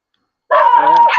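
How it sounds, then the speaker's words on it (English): A dog barks or yips once, close and loud, starting abruptly after a moment of silence. No speech is heard. "And the dogs are out. Can you hear them?"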